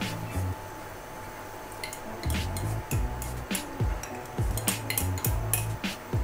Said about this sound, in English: I'm gonna add in the ingredients, the rest of the ingredients